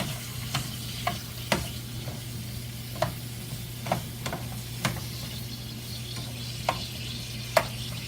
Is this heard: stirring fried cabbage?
yes